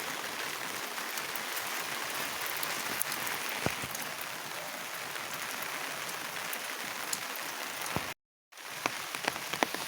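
Rain falling on a backyard chicken coop sheltering chicks: an even, fairly soft patter of drops throughout, with a short silent break near the end.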